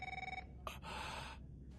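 An office telephone rings with a short electronic trill, pauses, then rings again more faintly.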